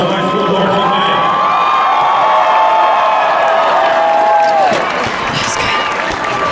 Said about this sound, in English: more round of applause for the Bob Jones High School marching band